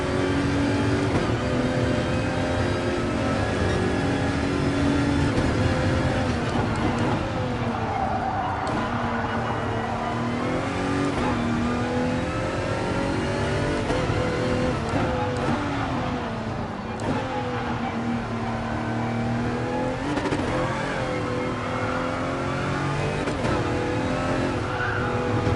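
Race car in Gran Turismo Sport played in VR, a loud sustained engine whine rising and falling through revs and gear changes, with tire squeal and skidding along the way and no voice over it.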